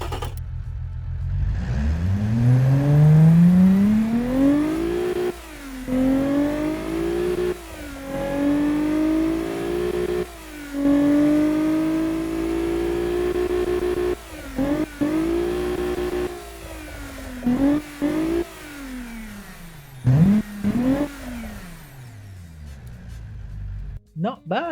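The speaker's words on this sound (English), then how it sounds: "it sounds like a torquey, quiet V6, like a real production one" A quiet, torquey V6 engine in a car video game starts up and is revved repeatedly, each climb in pitch followed by a drop back, with brief pauses between runs, loud and close, with no talk over it.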